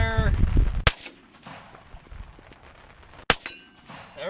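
A .30 caliber rifle fires two sharp, loud reports a few seconds apart, each with a short ringing tail, over a low outdoor background.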